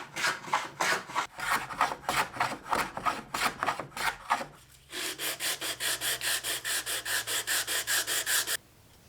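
A hand plane shaves a wooden piece flush, producing a series of rhythmic rasping strokes, first uneven and then a faster, steady run of close, crisp passes.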